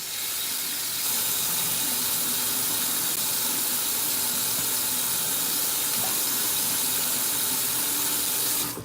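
Tap water runs steadily into a sink for washing the face before shaving, a loud, continuous close hiss that starts a moment in and carries on alone until just before the end.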